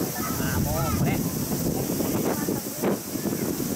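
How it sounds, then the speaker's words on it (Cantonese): Strong typhoon wind (Typhoon No. 10) roars and buffets the microphone at the seaside along the Shonan coast, a loud, continuous rush with brief surges and faint voices mixed in. "打緊風啊！"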